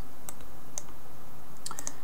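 Keys clicking on a computer keyboard during a short typing burst, a handful of crisp, close taps spaced unevenly against a quiet background.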